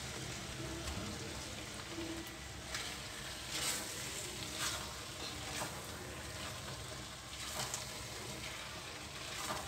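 Pieces of fish hit hot masala in a pan over a lowered flame for a fish curry, producing a quiet, continuous sizzle with a few soft clicks and taps.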